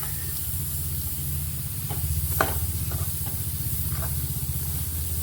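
Garlic and chili are stirred into a broad bean fry in a pan, making a steady hissing sizzle with a few soft spatula scrapes and clicks.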